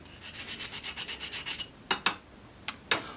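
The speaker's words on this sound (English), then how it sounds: "So you can file it down with a file" A hand file rasps across a metal nut being shaped into a ring, with about a dozen quick, even strokes followed by a few slower, separate scrapes, close and clear.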